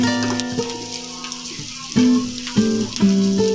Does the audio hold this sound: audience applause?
no